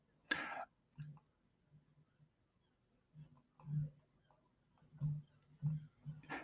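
Faint, sparse mouse clicks in a quiet room, one crisper click near the start followed by a few soft, widely spaced taps.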